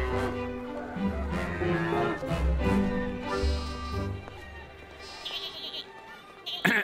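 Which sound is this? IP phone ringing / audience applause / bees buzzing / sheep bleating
sheep bleating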